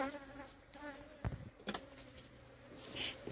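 Honeybees swarm and buzz around an unmanaged apiary, a wavering hum that rises and falls beneath faint voices, with a couple of sharp knocks partway through.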